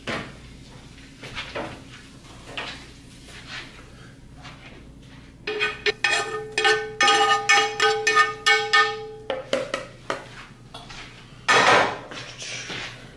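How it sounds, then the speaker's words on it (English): Cooked onions clatter from a pan into a bowl of bison slider mixture, with a run of sharp metallic scrapes and knocks in the middle, then a lone loud clank near the end, set against quiet kitchen background. "we're gonna transfer the onions from here into that mixture that we made"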